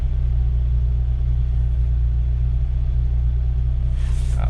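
A 1997 Jeep Wrangler engine idles with a steady low rumble, close and continuous, its RPM wavering slightly up and down, with a brief hiss near the end.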